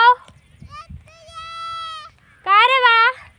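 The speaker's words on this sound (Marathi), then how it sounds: "आणि इकडे शेळ्या चरत आहेत." Grazing goats bleat nearby with two long, wavering calls, the second louder, while faint low rustling and soft child-like sounds come from the background.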